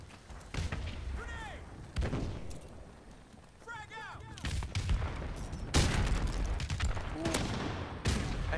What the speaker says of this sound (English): Grenade! Frag out!